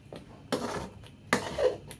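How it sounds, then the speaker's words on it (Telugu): A coconut black barfi mixture being stirred in a pan to break up lumps, giving scraping, clattering spoon-on-pan strokes in a few distinct bursts, fairly close and with no talk. "ఉండలు లేకుండా కలుపుకుంటున్నానండి"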